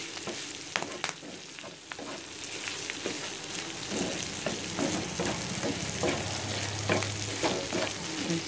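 Pepper chicken sizzles and fries with curry leaves in a pan, a steady crackling hiss broken by sharp pops and occasional stirring scrapes, close and continuous with no talk.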